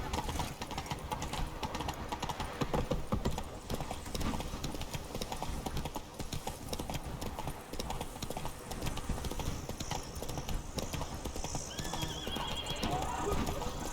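Roach the horse gallops in The Witcher 3: Wild Hunt – Blood and Wine, rapid hoofbeats pounding continuously over dense game ambience, with snorts and whinnies mixed in.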